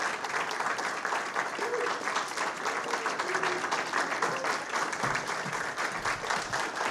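Audience applause fills a poetry festival hall in Ventura County, a steady wash of clapping that runs evenly for several seconds with no voice over it.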